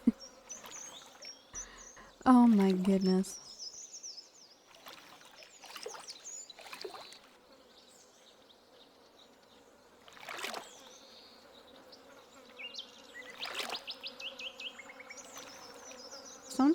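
Bees buzz persistently in a farming video game, with layered insect drones that swell and fade through the scene, joined by game chimes, and a person speaks briefly over them.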